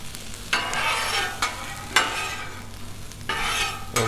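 Steak and eggs sizzle on a Blackstone griddle, a steady frying hiss broken by three or four louder bursts as the food is stirred and turned, fairly close and with no talk.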